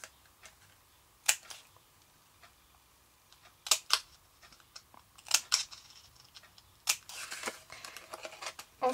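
Scissors cut a box lid at an angle, giving several short, crisp snips spread over the clip with quieter papery rustling between them, close and fairly soft, with no talking.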